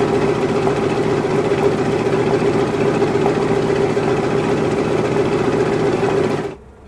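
B-17G Flying Fortress radial engine idling at 1,000 RPM in a flight simulator game, a loud steady throbbing drone with an even rhythmic beat that cuts off abruptly at the end.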